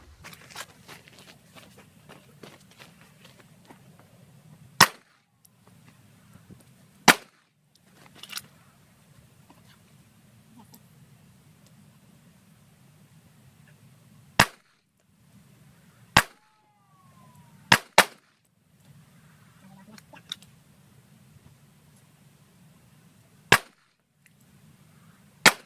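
Sharp gunshots crack out one at a time during a shooting drill, about nine spaced reports, some in quick pairs, loud and close above a low steady hum and quiet pauses.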